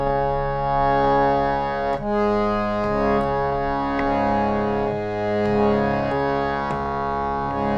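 Tanpura drone ringing the tonic Sa and the fifth Pa, a steady buzzing sustained tone rich in overtones with soft plucks re-striking the strings every second or so, even and close, with no voices.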